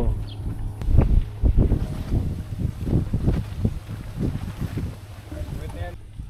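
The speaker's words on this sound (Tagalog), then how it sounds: "ang lakas pa ng hangin" Strong wind buffets the microphone with heavy low rumbling gusts at a campsite in Cavinti, Laguna, while voices speak underneath.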